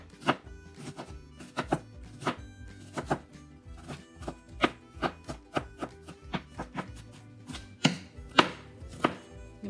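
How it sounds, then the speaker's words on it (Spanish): Onion being diced into small cubes with a knife on a cutting board, a brisk run of sharp, close chopping knocks at an uneven but steady pace, no speech. "Vamos a picar la cebolla también. Vamos a picar en cuadros."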